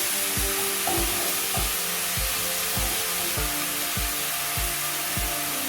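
Raw banana (kaya) frying in oil on low heat, a steady close sizzle with a regular series of scraping stirs, about one each half second, running throughout with no talk.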